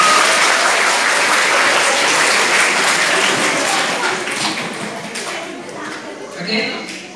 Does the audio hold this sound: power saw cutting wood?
no